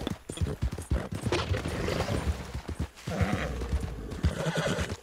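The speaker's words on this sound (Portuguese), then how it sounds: "Ah, cavalo!" In the game Red Dead Online, a loud horse whinny rises over steady clip-clopping hooves, with gunfire-like bursts and game action noise around it.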